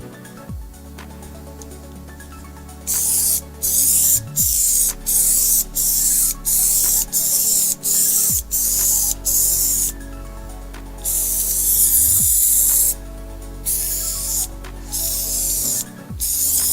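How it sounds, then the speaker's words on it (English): Contact adhesive for an EPDM roofing membrane sprayed from a spray gun in about a dozen sharp, loud hissing bursts, each a second or so long with short gaps. A low mechanical hum runs steadily underneath. "As you can see, again, spraying one way and the other way."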